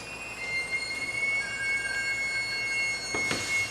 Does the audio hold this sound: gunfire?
no